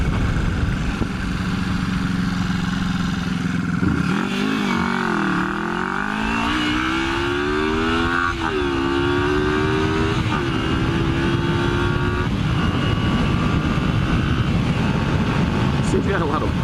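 A 1981 Yamaha XS400 motorcycle accelerates through the gears, its engine note climbing in pitch, dropping at each shift and climbing again, loud and close with steady wind noise, while a rider talks over it.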